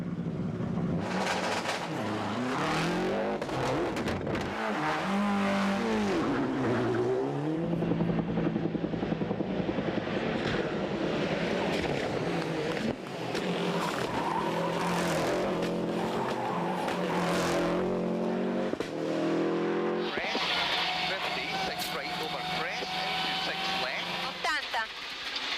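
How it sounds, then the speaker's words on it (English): Subaru rally cars compete on the final stage of the 1996 World Rally Championship, with loud engine roar, revving and tyre noise sustained throughout, mixed with a commentary-style soundtrack. "As the two Subarus battled it out, Richard Burns in the Mitsubishi became the"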